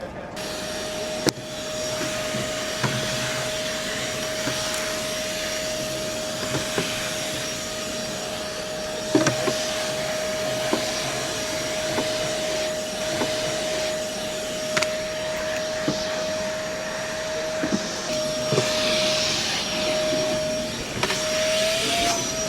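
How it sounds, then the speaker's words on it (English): A Milwaukee M18 brushless handheld vacuum runs continuously with a steady high-pitched motor whine and airy suction noise, broken by faint clicks and bumps as it is handled, fairly close and with no talking. "Our brand new M18 brushless handheld vacuum is used for a wide variety of applications across the trades"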